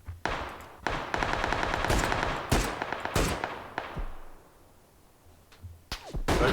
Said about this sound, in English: I think that was a bot shooting at players.